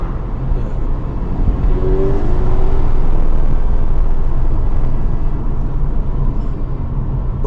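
Cabin sound of a 2023 Audi A5 Sportback S-Line 45 TFSI mild-hybrid Quattro driven in manual mode with the windows down: a steady broadband roar of engine, road and wind buffeting, holding constant loudness throughout with no talking.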